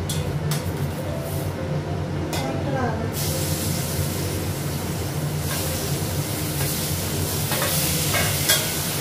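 Paneer frying in oil in a pan, a dense, continuous sizzle with scraping stir sounds and occasional clinks, steady and close throughout.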